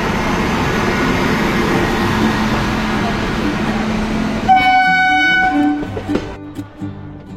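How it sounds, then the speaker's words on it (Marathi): A train rumbles steadily at a station, then a loud horn blasts near the end, followed by clanking and rolling sounds as it departs. "थोड्याच वेळात ही ट्रेन पण सुटणार आहे।"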